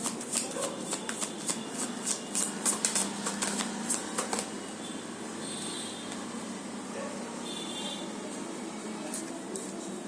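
Tarot cards shuffled during a card reading, giving a quick run of crisp, close riffling bursts over the first few seconds, followed by softer handling and a steady low background hiss.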